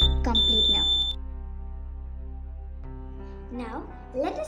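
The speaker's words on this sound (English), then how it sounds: "Now the buzzer is sounding as the circuit is complete now." A wire-loop game's buzzer sounds as its circuit completes, giving a steady high electronic tone for about a second while people talk over and after it.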